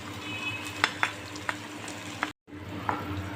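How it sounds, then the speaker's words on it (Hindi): Sausage seasoned with crushed chili, black pepper and salt fries gently in a pan with a continuous sizzle, broken by a few sharp stirring clicks and one brief dropout in the sound. "बस इसको हम हल्का सा, बिल्कुल हल्का सा बस इसको भून लेंगे"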